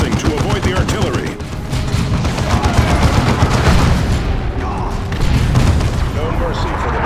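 Rapid gunfire and artillery blasts in the Warhammer 40,000 game Dawn of War 2, dense crackling shots over booming impacts, loud and sustained, with voices speaking over the battle.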